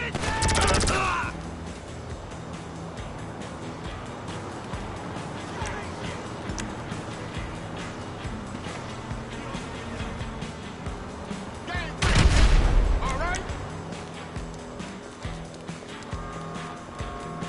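Video game shootout gunfire, with sharp loud bursts at the start and again near the end over a continuous stretch of rattling shots and clatter, and a voice speaking over the action.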